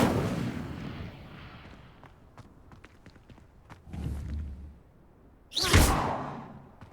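An Incendio fire spell is cast in the video game Hogwarts Legacy: a whooshing burst of flame, a later rumbling flare, and a final loud fiery blast near the end, with small scattered impacts between.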